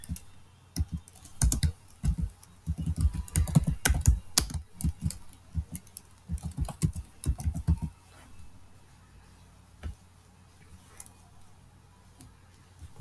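Quick clattering keystrokes on a computer keyboard while entering housekeeping services as a name, dense bursts of taps for about eight seconds, then a few scattered clicks, close and clear with no voice.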